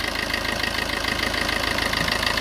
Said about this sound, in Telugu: సో ఇంజిన్ సౌండ్ అయితే ఈ విధంగా ఉందండి.